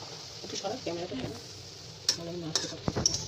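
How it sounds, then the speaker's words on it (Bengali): Potato and egg fritters fry in a pan with a soft, steady sizzle, joined by a few sharp clinks and scrapes of a utensil against the pan, while a person talks over it close by. "মামা রান্না করতেছে এটা হচ্ছে আলু দিয়ে ডিমের বড়া"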